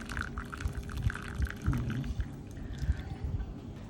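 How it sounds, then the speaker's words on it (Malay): Hot water is poured onto roasted rice for a natural cough remedy, making a soft, continuous close trickle with small splashy bubbling throughout. "Sis akan tambahkan air panas."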